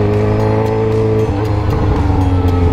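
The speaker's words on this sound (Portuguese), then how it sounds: "XJ6 aqui. Primeiro dia de moto." A Yamaha XJ6 motorcycle engine drones loud and close while being ridden by a first-time rider. The hum stays steady and continuous with a slight shift partway through, and there is no talk over it.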